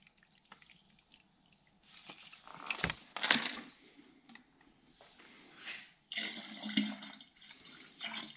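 Insecticide concentrate for carpenter bees is poured into two gallons of water, giving bursts of splashing and gurgling liquid between quieter drips and handling noises, close by with no talking.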